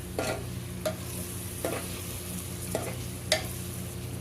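A spoon stirs paneer pulao masala in an oily pan, with a soft, continuous sizzle and a few spaced scrapes and taps of the utensil against the pan. No talking is heard.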